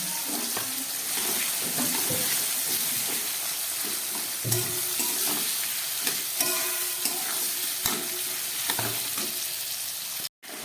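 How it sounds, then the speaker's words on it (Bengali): Onions frying in oil with dried chili and bay leaf, a steady dense sizzle with occasional spoon clinks and stirs, close and continuous before cutting out briefly near the end. "এবার কিছুটা পেঁয়াজ আমি ভেজে দিচ্ছি চিকেন রান্না করার জন্য।"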